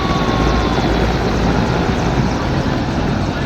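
A loud, steady thrum of military helicopter rotors in formation flypast over Rashtrapati Bhavan during the Republic Day parade fills the air, constant and close overhead without a break.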